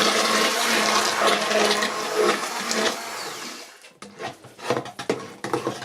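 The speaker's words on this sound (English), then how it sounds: "I'm going to whiz up the soup" A blender whizzes celeriac soup in a loud, steady whirring roar for about four seconds, then cuts out into short sloshing and knocking bursts.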